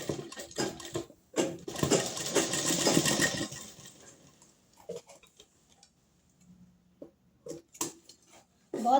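A sewing machine stitches and locks a seam on a blouse, running in a fast mechanical rattle for about three seconds up close, then stopping and giving a few short separate bursts of stitching.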